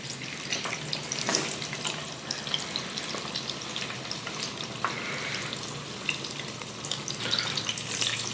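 Pork-stuffed eggplant deep-fries in hot oil, a dense, steady crackling sizzle with small pops throughout, close and loud, with no one speaking.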